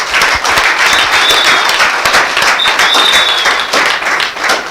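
A studio audience applauds loudly and continuously during a live Nigerian call-in family television program, with dense clapping and a faint whistle or two rising above the crowd.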